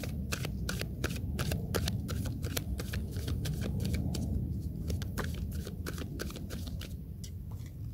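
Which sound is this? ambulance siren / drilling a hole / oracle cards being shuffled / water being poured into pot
oracle cards being shuffled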